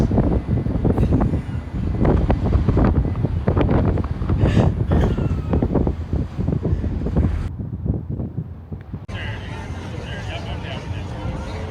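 Wind buffets the microphone aboard the Disney Skyliner gondola at Walt Disney World, a loud, gusty rumble that persists throughout and eases slightly near the end, with voices underneath.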